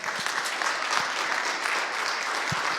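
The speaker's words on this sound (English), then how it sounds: "So let's give a round of applause to the one and unique Sophie MICHELENA." An audience at a social justice conference claps in a steady, dense burst of applause, a fairly close, even wash of hand claps with no voices over it.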